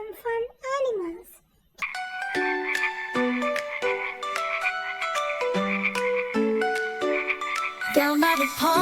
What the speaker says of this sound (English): little green frogs jump to and fro. Ribbit, ribbit, they all sing